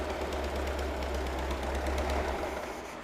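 A Volkswagen 1300 engine built from used parts runs steadily close by, a low, even, throbbing drone with a slight knocking rhythm and no talk.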